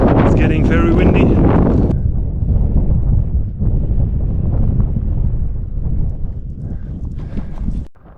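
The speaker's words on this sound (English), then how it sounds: "It's getting very windy." Strong wind from a mountain thunderstorm on a high alpine trail in Tirol, Austria, roars and buffets loudly and close, rumbling through most of the stretch before easing near the end.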